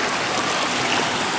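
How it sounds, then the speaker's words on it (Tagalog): Strong waves at Ternate Beach in Cavite make a steady, close, full rushing wash of surf that holds without a break, with no voices. "Lakas talaga ng alon, 4th year."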